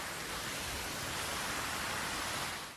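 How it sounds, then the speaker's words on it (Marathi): Light drizzle falls outdoors as a steady, even hiss that stays soft and unbroken throughout, with no voices. "आता आणखीन पावसाची रिपरिप चालू आहे"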